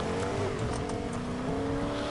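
A car in the Fortnite video game drives along with a steady engine drone and revving, quiet and continuous throughout with no talking.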